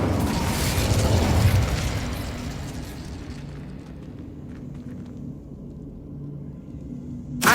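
The Incendio fire spell in the Hogwarts Legacy game erupts as a loud, rumbling fiery blast that swells in the first seconds and then fades into a low, lingering roar, with a sharp burst at the very end.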